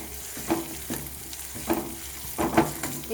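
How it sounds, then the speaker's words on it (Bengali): Garlic and chopped ginger fry in refined oil in a wok, a soft steady sizzle broken by a few sharp scraping strokes of a spatla as the pieces are stirred, fairly quiet and close with no talking. "কড়াইয়ে আমি কিছুটা তেল দিয়ে দিলাম, রিফাইন অয়েল। তারপর আমি দিয়ে দিলাম রসুনটাকে একটু হালকাভাবে ভেজে নেবো।"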